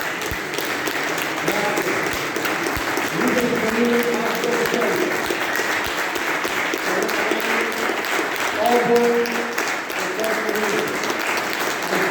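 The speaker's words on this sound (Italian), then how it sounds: "un applauso ancora a loro" Sustained audience applause at a live event with folk music performers, a dense steady clapping wash lasting throughout, with faint voices and some tonal sounds mixed underneath.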